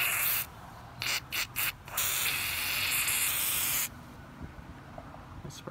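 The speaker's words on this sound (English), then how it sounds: "So it'll come in with brake cleaner." Brake cleaner sprayed from an aerosol can into a stuck rear door latch on a Nissan Cube, several loud, close hissing bursts, one short and choppy and one long and steady, followed by quieter handling sounds.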